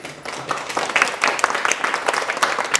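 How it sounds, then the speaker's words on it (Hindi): A crowd applauds, dense clapping rising quickly and holding steady throughout, fairly loud and close. "तो एक बार जोरदार तालियां होनी चाहिए"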